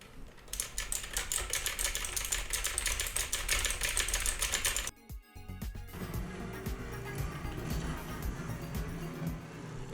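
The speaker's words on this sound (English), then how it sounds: "or have a loud mechanical keyboard" Rapid typing on a loud mechanical keyboard, picked up by a Natec Genesis Radium 600 microphone, makes a dense, fast clatter of keystrokes for about five seconds. It then stops abruptly, leaving a quieter, duller background.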